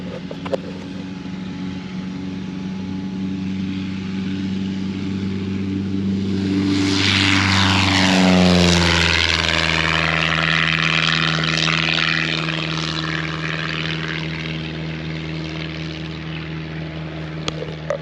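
A propeller airplane takes off from a grass runway, its engine droning steadily before swelling into a loud, rising roar as it passes close by, then fading into a distant hum as it climbs away.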